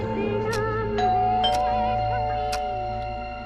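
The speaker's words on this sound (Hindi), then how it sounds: "अचानक डोरबेल बजी" A chiming doorbell rings with a couple of sustained ding-dong tones, ringing out and slowly fading over a steady background hum.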